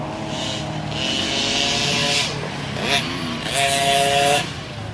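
Kids' motocross dirt bikes ride a pee wee track at Hidden Oak MX in South Texas, their small engines revving and whining in overlapping bursts, near and loud, rising and falling as the riders pass and accelerate.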